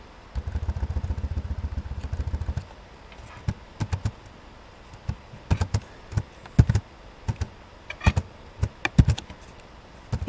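Code being typed on a computer keyboard, sharp individual key clicks in irregular bursts and pauses, close and clear, after an opening stretch of low rumbling hum, with no speech.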